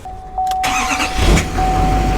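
A Chevrolet truck engine cranks and catches close by, then settles into a loud, rough idle, with a steady electronic chime ringing throughout.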